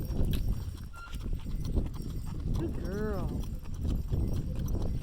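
Horse hooves clip-clop steadily on a trail during an anniversary trail drive, close and continuous under a breeze, with people talking over them and a brief whinny-like call partway through.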